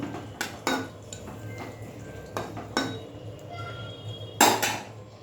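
Metal cooking pot lid clanks as the pot is covered after the gas is turned off, several sharp clinks and clatters spaced apart, the loudest near the end, over a quiet kitchen background.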